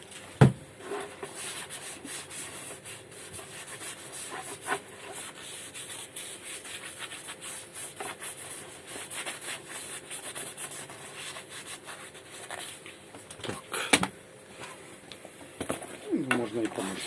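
Sandpaper rubbing and grinding the sole of a shoe being resoled, a rough continuous scraping with uneven strokes, heard close with someone speaking Russian over it.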